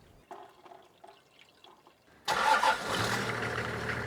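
A cold engine in an old Toyota Land Cruiser Troopy catches and starts after a few quiet clicks, then settles into a loud, steady idle close by.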